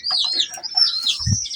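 Young pigeon chicks in a home loft give thin, high-pitched cheeping calls in a quick, continuous stream, close by, with a brief low flutter or bump near the end.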